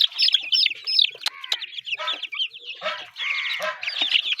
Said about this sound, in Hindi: दोस्तों ये भी मुर्गा है और ये भी मुर्गा है।